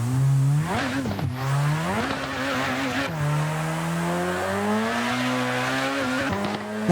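A racing car with a manual gearbox is driven in a sim racing video game. The engine climbs and drops through repeated gear changes, with tire squeal, loud and continuous with no talk.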